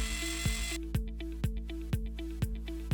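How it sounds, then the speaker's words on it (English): Repeated short bursts of a power drill with a 5mm masonry bit biting into a wall, roughly every half second, over a steady low motor hum. "Drill the holes using your 5mm masonry drill bit."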